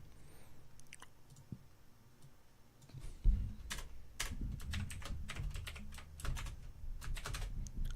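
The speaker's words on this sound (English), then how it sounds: "I gotta move my keyboard." A computer keyboard is shifted with a thump, then typed on in bursts of close, crisp key clicks with brief pauses, no talking.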